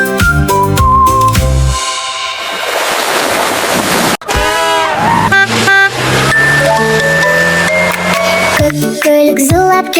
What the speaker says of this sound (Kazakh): Көлік зулап келеді, зір-зір-зір, жол үстінде жүріп келеді. Бип-бип-бип